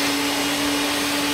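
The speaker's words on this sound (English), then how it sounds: "I am going to blend this, and then that's it" Kitchen blender running steadily during a cooking class, a loud continuous whirring motor with a strong steady hum, heard alone without talk.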